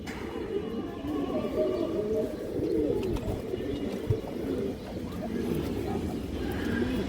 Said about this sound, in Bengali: অনেক সুন্দর কবুতর এই যে দেখেন